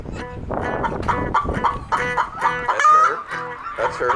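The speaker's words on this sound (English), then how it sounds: "Sister Rosetta, the blues chicken, sounds like this" A hen named Sister Rosetta, called the blues chicken, gives a run of loud, close, rhythmic clucks and squawks, with a voice talking briefly between them.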